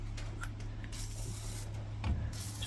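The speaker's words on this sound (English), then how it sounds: "Just let me spray them bad boys." Cleaner sprayed onto dirty, carbon-fouled injectors from a Perkins 4236 diesel engine, heard as several short, faint hissing spray bursts over a steady low hum.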